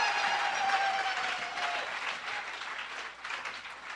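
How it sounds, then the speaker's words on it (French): A church congregation breaks into sustained applause during a worship service, dense clapping from a large crowd filling the space at steady strength throughout. "Applaudissons le Seigneur."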